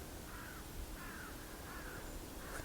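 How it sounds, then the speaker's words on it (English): A crow cawing in the background outdoors, four evenly spaced harsh calls repeating about every half second to a second, faint and distant over a steady wash of wind or ambient noise. "Crow in the background."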